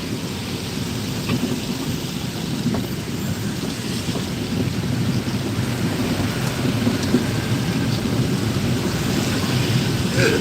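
Heavy rain pours steadily during a motorcycle ride in Banjarmasin, a dense, continuous rushing wash with low rumbling underneath, loud and unbroken for the whole stretch, with no voices.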